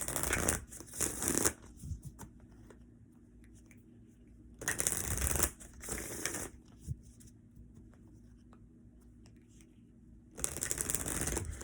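Tarot cards are shuffled in three loud, papery bursts, near and alone, with quieter card handling and soft rustles between them.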